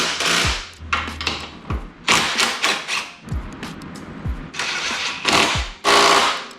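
Bursts of an electric impact wrench driving motorcycle suspension bolts, several short loud whirring rattles separated by pauses and clunks, close to the mic, with no talking.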